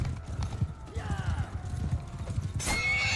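Horse hooves clip-clopping and a horse whinnying in the Mount & Blade II: Bannerlord video game, rhythmic close hoofbeats followed by a sharp neigh near the end.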